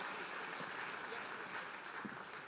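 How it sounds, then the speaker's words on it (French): An audience clapping for trophy winners at an awards ceremony, a dense, even patter of many hands, distant and quiet, with no speech. "On peut les applaudir."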